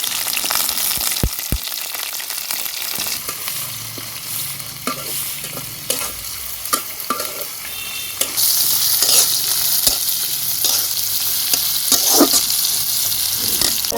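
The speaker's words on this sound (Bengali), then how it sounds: "চাউল ভাজা সময় দিব" Rice fries in a pan with onion, garlic, ginger, green and dried chilies for a pangas fish biryani, giving a steady close sizzle broken by repeated scraping stir strokes. The frying swells noticeably louder partway through, with no voices.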